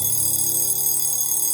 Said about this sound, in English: For most of us, alarm clocks are jarring, but for Kyle, it was more than that.